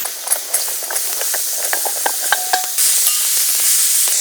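Boiled potatoes and peas are sautéed in spices in a pan, with scattered scraping and clinking stirs over a soft sizzle that swells into a louder steady hiss near the end.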